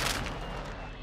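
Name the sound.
flashbang grenade thrown in video game Call of Duty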